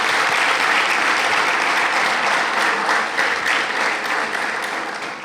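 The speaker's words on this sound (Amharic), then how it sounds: "እስኪ ጭብጨባችሁን" A large audience at a 2017 Army winter camp gathering bursts into sustained applause. The clapping is loud and dense and runs throughout, fading slightly toward the end.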